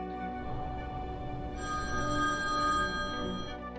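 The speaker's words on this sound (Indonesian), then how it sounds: "Tiba-tiba telepon berdering." A telephone rings steadily with a sustained electronic trill that grows brighter partway through, alone with no voices over it.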